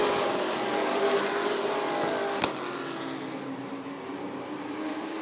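Sportsman race cars in a dash race at Rockford Speedway, a steady broadband engine roar filling the clip with a brief sharp burst near the middle, fairly loud and continuous with no talk.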